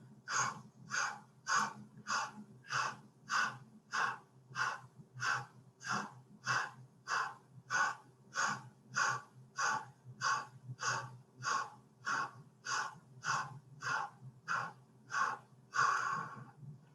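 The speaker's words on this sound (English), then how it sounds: "let's go back to our breath of fire one more time. Just pulling the navel into the spine with an exhale, quick and short" Breath of fire yogic breathing: a long, fast, even series of sharp nasal exhales, about two per second, close and loud with no talking, ending in a slightly heavier breath.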